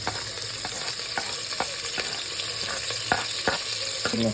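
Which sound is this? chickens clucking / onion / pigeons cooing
onion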